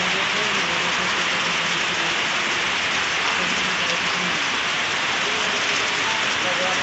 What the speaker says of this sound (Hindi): ये देखिए बारिश कितनी तेज पड़ रही है